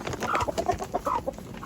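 Chickens cluck in short, close bursts at feeding time in a backyard flock with a rooster, a busy, uneven chatter of several birds.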